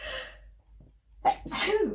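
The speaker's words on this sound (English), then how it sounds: "oh, I'm going to sneeze." A single sharp sneeze preceded by a quick breathy intake, close and loud, with no talking.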